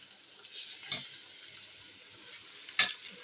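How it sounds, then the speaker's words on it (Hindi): Onion fries quietly in a pan while mutton palak is being made, a faint soft sizzle broken by two brief scraping stirs, with no talking. "देखिए, ये फ्राई हो रहा है।"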